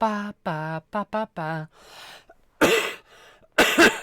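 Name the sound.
coughing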